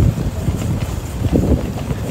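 Steady gusting wind rumbling against the microphone outdoors near a Costco parking area, a continuous low roar with no voices.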